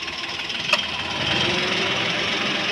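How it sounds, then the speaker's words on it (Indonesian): A 2016 Daihatsu Ayla engine idling with the hood open and the AC on, a steady close mechanical hum with a faint hiss, one brief tap early on, then a slightly louder even drone. "Nih kita akan buka posisi mesin hidup."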